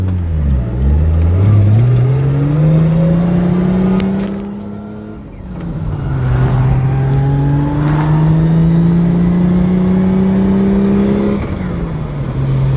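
A 1989 Toyota Cressida with a 1JZ engine and R154 manual gearbox pulls loudly up through the revs, drops pitch for a gear change midway, climbs again and shifts once more near the end.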